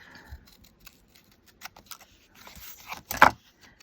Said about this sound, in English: Take my scissors and cut the excess off.